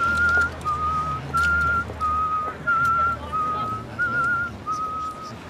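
A man whistles a slow, lilting melody from Wagner's Siegfried Idyll in long sustained phrases with short breaks, moderately close over a murmuring indoor background.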